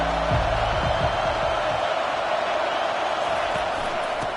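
A loud stadium crowd roars and cheers at a football game, a dense steady wash of noise throughout, with a few heavier thumps early on and a commentator's voice faintly underneath.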